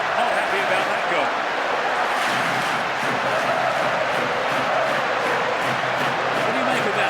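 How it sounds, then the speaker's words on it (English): A large stadium crowd in the soccer video game PES 6 roars steadily after a goal, a continuous, loud wash of massed voices with no breaks. "most of the crowd not happy about that goal."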